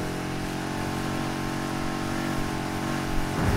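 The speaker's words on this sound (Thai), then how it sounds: "เปลี่ยนเกียร์ตอนไหนวะฟังเสียงรอบเครื่องไม่ถูก" A Ford Mustang Foxbody engine droning at steady revs in the racing game Need for Speed Heat, a continuous buzzy tone holding level before shifting and rising slightly at the very end, no talk.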